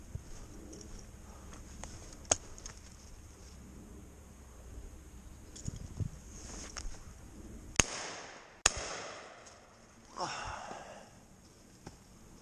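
Shotgun shots fired at roosting pigeons, with both steel and lead cartridges, sound as two sharp reports close together, the second in the other barrel, among faint outdoor rustling and a few distant knocks.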